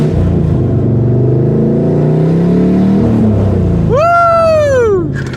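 A Mustang engine with open headers drones loud and rough on a dyno, a dense low rumble that climbs steadily in pitch as it revs, with a sharp rising-then-falling whine near the end.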